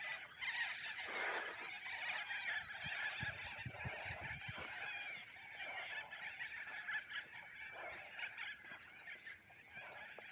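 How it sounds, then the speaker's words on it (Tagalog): A flock of white cockatoos gives loud, harsh screeching calls that overlap almost without a break, as if from birds nearby in an outdoor community. No one speaks. "Look at those birds. Those are the cockatoo, white cockatoos."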